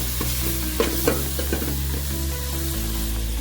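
Brinjal biryani mixture with mint leaves being stirred in a pan, a steady close sizzle of frying under repeated scraping strokes of a spoon, with no voices.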